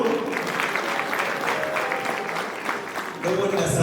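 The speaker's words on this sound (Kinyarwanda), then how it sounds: "reka nsabe mubashimire n'amashimeshi y'impundu" Applause with ululation from wedding guests at a Rwandan celebration, a steady dense wash of clapping with high trilling cries running through it, swelling louder near the end.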